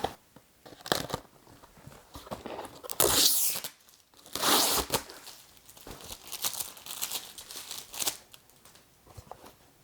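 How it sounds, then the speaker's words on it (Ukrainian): Packaging crinkles, tears and crunches in bursts as a parcel of 27 newly bought books is unpacked, loud and close with no one speaking. "зараз у мене прям буде розпаковка, розпаковка"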